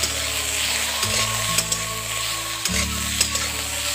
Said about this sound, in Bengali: ফুলকপিগুলোকে ভালো করে ভেজে নেব।